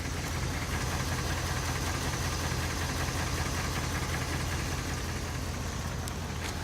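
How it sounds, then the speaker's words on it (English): Old daily-driver truck idles with a ticking exhaust leak, a steady close engine rumble with a fast faint tick running through it, continuous and loud, with no voices. "And you can hear the exhaust tick."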